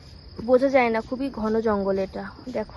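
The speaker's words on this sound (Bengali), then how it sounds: "আর ঝিঝি পোকা ডাকছে কিন্তু।" A steady high cricket chirr drones without a break through dense hental palm jungle on Henry Island near Bakkhali, heard beneath close talking voices.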